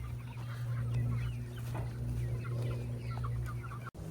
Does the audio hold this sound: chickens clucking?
yes